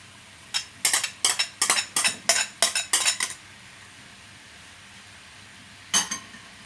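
A utensil scrapes and clinks against a pan as pancit bihon with fried chicken liver is stirred, about nine quick rhythmic strokes, then a pause and one more stroke, close and fairly clear with no talk.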